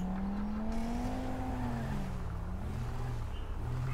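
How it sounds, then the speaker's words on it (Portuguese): A car engine in Grand Theft Auto V drones steadily throughout, its pitch rising and then sliding slowly downward, with no talking over it. "Um barulho de carro, velho."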